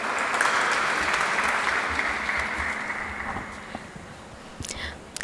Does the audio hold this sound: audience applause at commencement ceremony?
yes